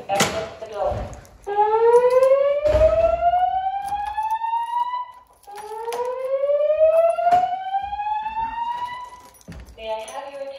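A building fire alarm sounds during a dormitory test, blaring two long rising electronic whoops with bright harmonics, each gliding upward for several seconds. Brief bursts of other sound come at the start and end.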